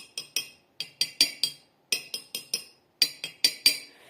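Glasses holding different amounts of water are tapped in quick irregular clusters of bright, ringing clinks with short decays, each tap at a slightly different pitch, close and clear with no talking.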